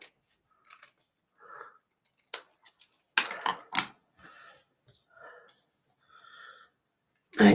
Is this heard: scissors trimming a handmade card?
yes